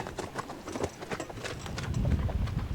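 Horses' hooves clip-clop steadily while the team pulls a sled, close and fairly loud, with a continuous scraping rumble of runners underneath and no talking.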